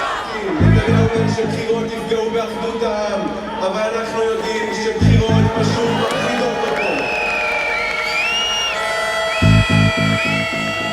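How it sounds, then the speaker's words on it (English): Thousands of anti-government protesters fill the streets of Tel Aviv, calling for new elections; a loud crowd chants and shouts, with bursts of rhythmic drumming at intervals and a whistle-like tone rising above the din. "Anti-government protests like this have become almost a weekly occurrence in Tel Aviv, with thousands on the streets calling for new elections"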